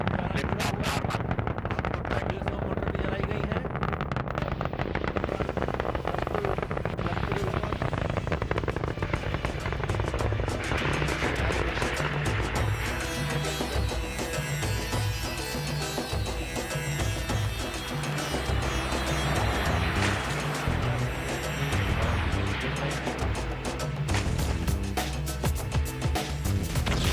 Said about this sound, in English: Ignition sequence normal and lift off normal.